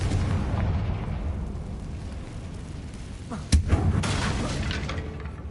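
A Confringo fire spell bursts in Hogwarts Legacy, a sudden sharp blast with a rumbling low tail rising out of steady game ambience, followed by lingering crackling debris.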